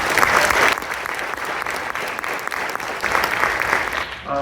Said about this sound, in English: Please give those students a round of applause